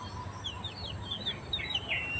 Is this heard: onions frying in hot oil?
no